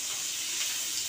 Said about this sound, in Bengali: পেঁয়াজগুলোকে এইভাবে হালকা ভেজে নিতে হবে